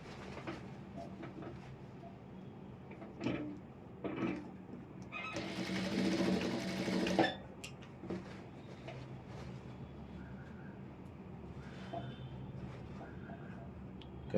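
An electric sewing machine stitches the side seams of an Aari work blouse, with quiet handling and short whirs at first, then a loud sustained run of rapid stitching, followed by more scattered short bursts.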